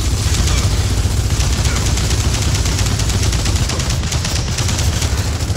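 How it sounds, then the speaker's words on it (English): A mounted turret fires continuously in the video game Gears of War 4, a loud, dense, unbroken barrage of rapid shots dominating the whole stretch. "We got a turret!"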